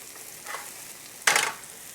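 Green onions and red chilies toast in a hot pan for Mongolian beef, giving a soft, steady sizzle that breaks into a short, louder crackling burst partway through.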